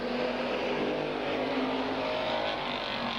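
Race cars circle a speedway, their engines a continuous loud droning roar with steady tonal whine and no break, no voices over it.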